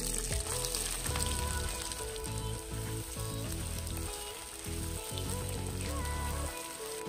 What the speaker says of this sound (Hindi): अब इसमें 6 से 7 कटे हुए प्याज डालेंगे